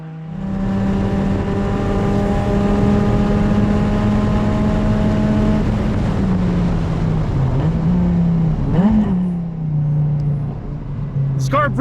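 A hillclimb Subaru BRZ race car engine, about 520 wheel horsepower, drones at high revs on a racetrack, its pitch holding steady then dipping and rising through gear changes, loud and close.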